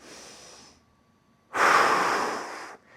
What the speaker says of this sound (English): inhale through the nose into the belly.